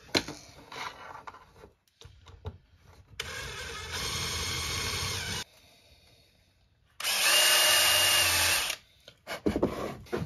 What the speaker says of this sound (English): drill a hole right through here, which will put the wires to the inside of the front end assembly